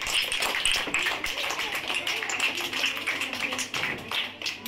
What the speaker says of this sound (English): Very good, everybody clap.